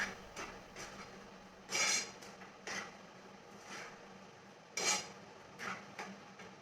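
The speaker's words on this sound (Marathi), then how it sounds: "पूर्णपणे असं हलवीत राहायचं तोपर्यंत घट्ट होत नाही तोपर्यंत हलवित राहायचं" A sesame-jaggery ladoo mixture is stirred in a pan over a high flame. Faint, repeated scraping strokes of a spoon against the metal come at an uneven pace in a quiet room.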